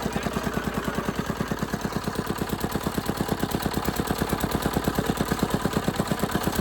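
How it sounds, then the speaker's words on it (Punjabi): An engine runs steadily at idle, chugging in a fast, even rhythm of close, loud pulses from start to end. "ਜਿਹੜਾ ਇੰਜਨ ਹੈ ਨਾ ਬਹੁਤ ਛੇਤੀ ਸਟਾਰਟ ਹੁੰਦਾ"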